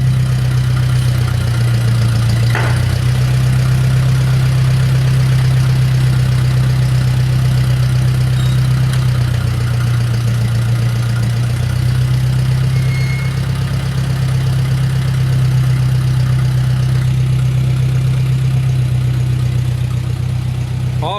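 A Ford 8N tractor engine runs loud and close at a steady idle, a deep continuous rumble with slight dips in pitch, no voices over it.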